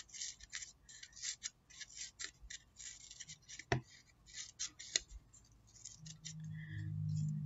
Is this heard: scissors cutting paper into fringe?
yes